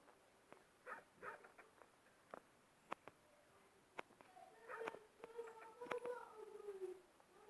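Faint dog barks and whimpering sounds from the Robbery Bob video game, short scattered yelps followed by a longer whiny cry, with quiet game background.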